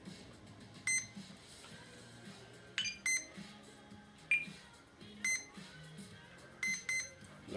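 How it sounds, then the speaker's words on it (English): A series of sharp electronic beeps from a drone's ESC during calibration, some single and some paired, rings out over a quiet background hum at irregular intervals. "There's the weird beep,"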